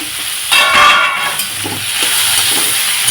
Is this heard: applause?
no